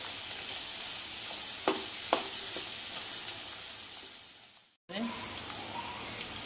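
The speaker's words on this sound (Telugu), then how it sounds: "ఇందులో వెల్లుల్లి తొక్కు వేయాలి బాగా వేగనివ్వాలి" Garlic paste fries in oil in a pan for gongura pachadi. A steady, close sizzle and hiss with a few stirring taps, briefly cut off before the frying resumes.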